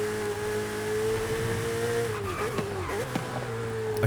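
A Ferrari F8 is driven in the racing game Forza Horizon 5, its engine holding a steady whine that dips and wavers as it shifts and slows, with a brief tire squeal and no talking.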